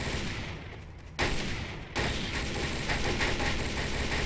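Gunfire in a first-person shooter video game, a dense, sustained fusillade of rapid shots that jumps louder partway through and continues as an unbroken clatter, with no talking.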